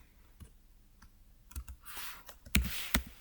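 Short bursts of keystrokes on a computer keyboard while HTML heading tags are typed, sparse single clicks at first, then denser and louder clusters of clacking near the end.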